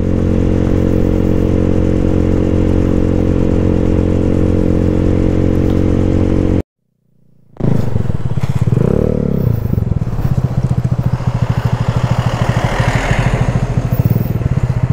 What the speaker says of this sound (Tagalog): Tapos yung Honda Click 125 natin na naka-remap, yung tropa natin pagdatribin natin.